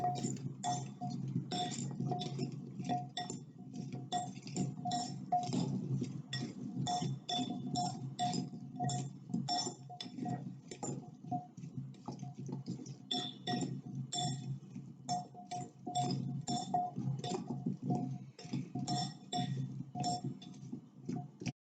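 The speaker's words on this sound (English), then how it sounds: "use something like a fork to toss the carrots in the olive oil and spices until they're all coated evenly" A fork clinks repeatedly against a dish while tossing carrots in olive oil and spices, giving a busy stream of light metallic taps and scrapes, close and fairly constant.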